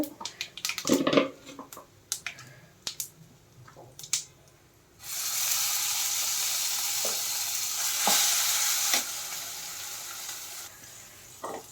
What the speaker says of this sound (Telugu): తాలింపు అయితే వేగిందండి ఇంక పచ్చడి అయితే వేసేసుకుంటా